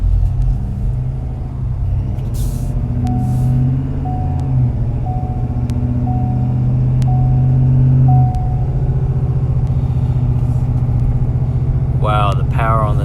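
A 2020 Ford F-250 King Ranch with a deleted 6.7 Powerstroke diesel is heard from inside the cab as a loud, steady low engine rumble that climbs in pitch while it accelerates, with brief speech near the end.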